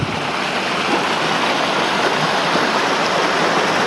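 Steady, loud rush of a stream flowing along a hiking trail in Mount Carleton Park, broadband water noise filling the whole clip without pause and with no voices.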